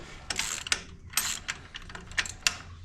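Ratchet wrench tightening a jam nut on a Wood-Mizer sawmill debarker, several short bursts of close clicking ratchet strokes with brief pauses between.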